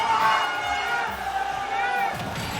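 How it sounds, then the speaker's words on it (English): A French crowd at an Albion 4 esports fighting game tournament cheers and roars, a dense continuous wall of shouting and whistling at moderate distance with no clear pauses. "You can hear the crowd going for this, hopefully."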